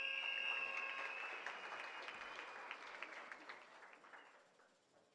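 Audience clapping at a regional oratory contest medal ceremony, a fairly quiet, even round of hands that thins and fades toward the end, with no voices over it.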